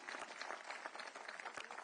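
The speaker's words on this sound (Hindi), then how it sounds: "जोरदार तालियों के बीच" Faint, distant applause from an audience at a Delhi government event honouring the chief minister, a brief continuous patter of many hands clapping.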